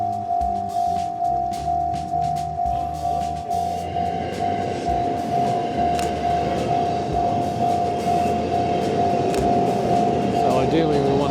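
A train passing close by, with rhythmic clacking of wheels over rail joints and a sustained tonal whine, loud and steady throughout, with a voice talking briefly.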